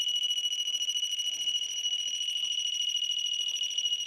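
Electronic temperature alarm device beeping continuously, a loud high-pitched rapid pulsing tone held steadily throughout, with faint background movement beneath it.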